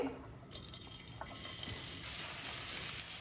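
Thinly sliced onion dropped into hot oil with a little ghee erupts into a steady, bright sizzle that swells after a soft clatter and stays loud and hissing throughout.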